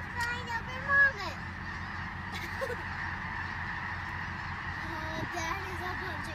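Snow geese honking as a flock passes overhead above a wheat field in Arkansas, a steady chorus of distant calls with a louder burst near the start, mixed with people talking.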